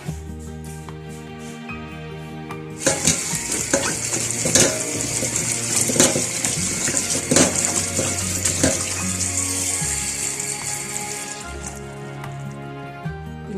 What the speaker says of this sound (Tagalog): Unang-una ay hugasan muna natin ang ating sitaw bago natin ito lutuin.